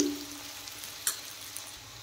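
Potatoes fry in a pan with a quiet, steady sizzle, broken by one or two faint clicks.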